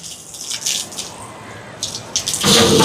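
Water gushes and splashes steadily as it is drawn into a pot for cooking rice on a hot, sunny day, loud and close with brief surges toward the end.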